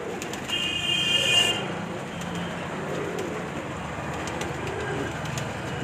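A pigeon coos softly on a rooftop loft, set against steady outdoor background noise with faint traffic or distant rumble and no speech.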